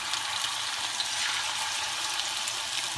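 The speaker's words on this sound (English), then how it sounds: "Now, I'm gonna just drop them off in there like that. You fry them just like you do shrimp." Battered lobster pieces deep fry in hot oil with a steady, dense crackle and sizzle that stays constant throughout, close and fairly loud, with no voices over it.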